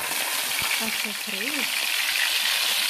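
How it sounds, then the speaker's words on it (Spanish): Onion and celery fry in oil in a pan next to browned bacon, a loud steady sizzle close up, with a brief voice murmuring underneath. "Ahora yo voy a agregar en el aceite la cebolla y el apio."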